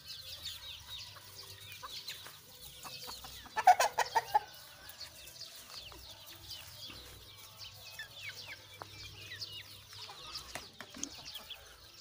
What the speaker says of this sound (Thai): ไก่ก็มากินครับกินได้ทั้งวันนะครับ